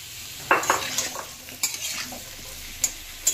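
A mixed vegetable dish with radish and taro being stirred and turned in a frying pan, close, with repeated scraping and clinking strokes over a low sizzle and no talking.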